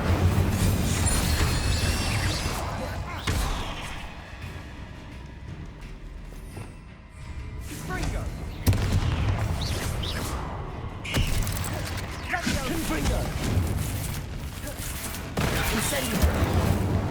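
Incendio and Confringo spell blasts in Hogwarts Legacy erupt as dense, booming bursts and crackling impacts in a continuous loud barrage of combat effects, with a voice calling out over the din.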